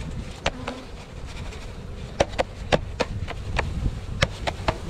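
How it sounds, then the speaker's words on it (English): Honeybees being shaken into a hive box during installation, a dense buzzing swarm close by with steady humming and sharp thumps and knocks from the box and container. "We're getting as many bees in here as we can get."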